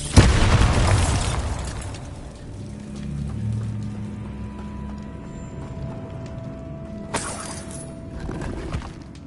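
A Bombarda blasting spell explodes in the Hogwarts video game with a loud, sharp burst followed by rumbling debris. A second crackling blast comes later in the clip.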